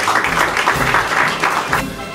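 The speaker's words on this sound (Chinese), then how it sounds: "我们以最热烈的掌声欢迎师副总" An audience claps steadily to welcome a senior executive onto the stage at a property-market briefing, a dense, sustained patter of many hands that holds its level across the whole stretch with no voices over it.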